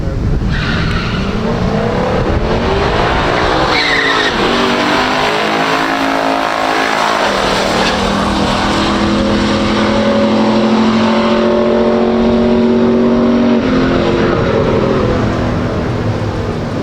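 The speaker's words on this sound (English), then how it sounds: "Let's see what they can do on the drag strip." A 1969 COPO Camaro 427 and a 1969 Pontiac GTO Judge, both pure stock, launch down a drag strip: loud, sustained V8 roars rise through the gears, with tire squeal and a steady wash of engine noise throughout.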